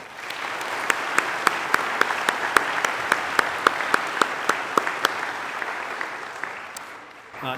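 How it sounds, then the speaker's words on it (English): An audience at a chapel program applauds steadily, a broad wash of clapping with one sharp, regular clap standing out close by at an even beat, fading just before the end. "let's give him a round of applause."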